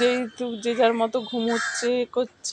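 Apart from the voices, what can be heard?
crows cawing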